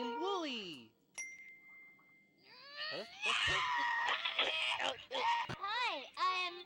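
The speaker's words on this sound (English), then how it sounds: "It does a phone message beeping every time with that." Bright electronic beeps of a phone message tone in the video game Amanda the Adventurer 2, ringing out amid chirpy, sing-song character voices and other game sounds.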